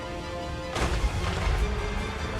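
Artillery barrage in the fantasy battle game Total War Warhammer 3, a sudden loud burst of booming impacts and crashing that keeps rumbling densely after a quiet lead-in, with no talk over it.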